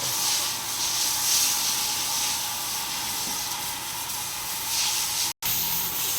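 Water sprays steadily from a jetmatic hand pump while animals are bathed, a continuous loud hiss that holds evenly for several seconds and cuts out briefly near the end before resuming.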